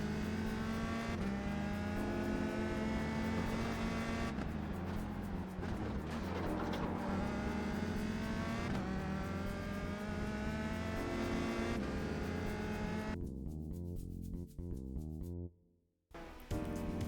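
USF2000 race car engine in the iRacing sim, loud and close, its revving tone climbing and dropping across several gear changes, ending in a sharp cut-off and brief silence before resuming.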